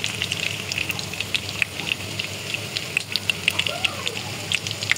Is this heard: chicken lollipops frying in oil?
yes